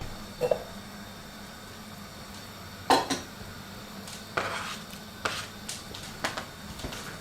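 A knife taps sharply on a cutting board while garlic is chopped for beetroot borscht, a few irregular clicks spaced apart over a quiet kitchen background.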